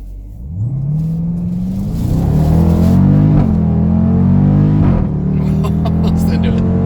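A nearby 2018 Dodge Durango SRT engine revs and accelerates, its pitch climbing, dipping briefly at gear shifts, then rising again, steady and loud throughout.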